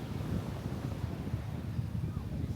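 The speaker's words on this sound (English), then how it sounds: "This is the beach area. Very windy." Wind rushes across a beach in Mexico, a steady low rumble buffeting the microphone, with no voices.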